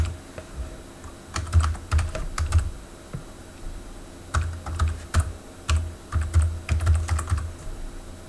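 Someone types a file path on a computer keyboard while setting up a Raspberry Pi: quick bursts of close, crisp keystrokes in two main runs separated by a short pause.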